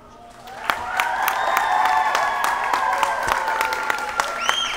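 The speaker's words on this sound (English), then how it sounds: "A round of applause as this is the final swim for seniors here at Hommick's Pool." An audience at a girls varsity swimming meet at an indoor pool claps and cheers, building quickly and holding steady, with sharp whistles and pool-hall echo over the crowd.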